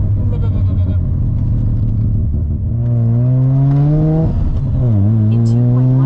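Four-rotor Bridgeport-ported rotary engine in a Supra on deceleration along backroads, a loud, close, rough burbling drone with shifting pitch and crackly flutter as the throttle closes, with a voice speaking over it.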